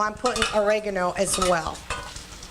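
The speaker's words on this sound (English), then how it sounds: "this is really sizzling over here" Basil and oregano sizzle and get stirred in a pan with pasta for a gluten-free Greek chicken dish, a steady close frying hiss with utensil scrapes beneath a person talking.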